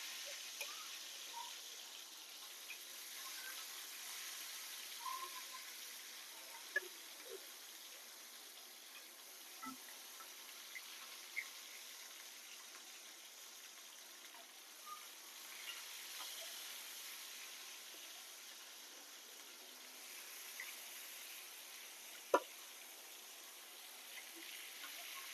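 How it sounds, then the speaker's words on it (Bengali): Marinated rohu fish frying in hot oil, a faint, even hiss of sizzling with occasional small pops and crackles, quiet and continuous. "তেলটা আমার ভালোভাবে গরম হয়ে গেছে। দিয়ে দিব মাখিয়ে রাখা মাছগুলো।"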